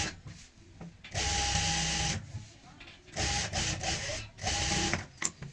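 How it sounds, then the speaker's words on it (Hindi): Sewing machine stitching a half-inch seam on a circle palazzo, running in two loud whirring bursts with a brief pause between, close to the listener, with a voice speaking over the motor. "तो आधा इंच की यहाँ पे सिलाई लगाएंगे।"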